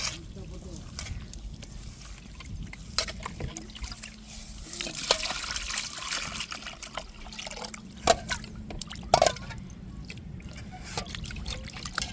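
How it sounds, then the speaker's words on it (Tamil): Water is poured and trickles over small anchovy-type fish as they are washed in a kitchen, a soft continuous splashing with a few louder drips and sloshes, close by and fairly quiet. "தண்ணி ஊற்றுவோம்."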